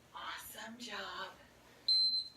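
A single high electronic beep from a workout interval timer sounds near the end, right after a stretch of talking, clear and steady for about half a second.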